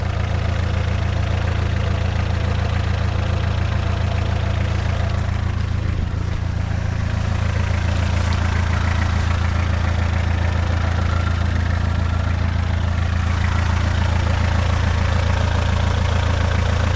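A diesel-powered Suzuki Samurai with new manifolds and a new turbo idling, a steady, loud, low rumbling drone with a faint knocking texture, continuous and close, heard alone without talk.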